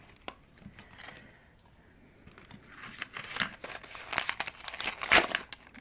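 A plastic ingredient bag from a potion-brewing kit crinkles and rustles up close, starting with sparse handling and building into denser, louder crackling toward the end, with no talking.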